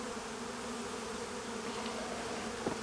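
Honey bees in a hive hum steadily and faintly around frames of empty comb, a continuous low drone with no voices.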